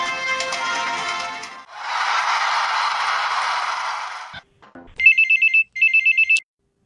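A telephone rings twice for a radio phone-in call, clear electronic ring bursts following a stretch of broadband rustling noise.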